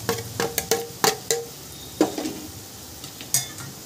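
Onion paste going into a hot oiled pan for a Marathi chicken curry, with a few sharp clanks of a spoon against metal and a brief burst of sizzling, fairly quiet with short gaps in between.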